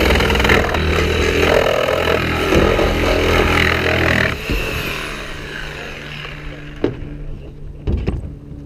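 A power saw cuts during a rescue drill, giving a loud, dense grinding roar for about four seconds before easing into a lower idling hum with a few clanks.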